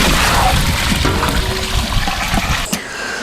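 Water poured into a pot of chicken biryani with tomato, a steady rushing, splashing flow heard up close, easing off toward the end with no talk.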